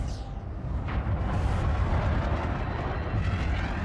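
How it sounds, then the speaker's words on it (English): Fireworks in the space game Elite Dangerous: a broad roaring rumble with a couple of sharper bursts near the start, sustained and loud throughout without speech. "Some fireworks at the start."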